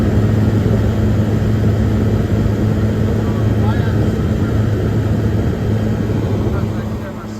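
A 1978 Comfort-Aire Quietmaster 29,000 BTU air conditioner runs nearby with its universal electric fan motor, a loud, steady whooshing drone with a low electrical hum that eases slightly at the end.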